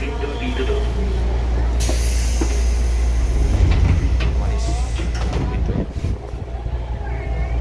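Train rolling into Jakarta Kota railway station, a steady low rumble of railcars with wheel and brake hiss, some squeal and wind buffeting, loud and close throughout, with voices faintly underneath.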